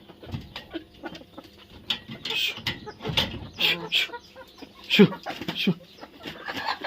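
Chickens cluck and squawk in irregular bursts close by, a busy flock making short, overlapping calls throughout.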